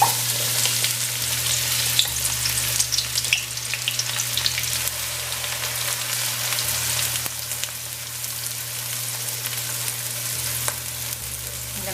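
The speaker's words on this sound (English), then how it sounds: "I'm gonna let this fry for 2 minutes." Garlic, onion and wiri pepper fry in hot oil in a pot, a loud, steady close sizzle with occasional stirring scrapes over a low continuous hum from a stove or fan.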